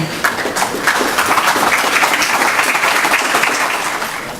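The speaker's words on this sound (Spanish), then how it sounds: "Le damos un aplauso, por favor, para darle la bienvenida." An audience at a Peruvian university construction conference applauds to welcome a speaker, a loud, dense wash of many hands clapping steadily for several seconds before tapering slightly.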